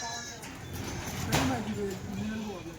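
A Kathiawadi goat bleats with a wavering, nasal call, close by, over a low background murmur.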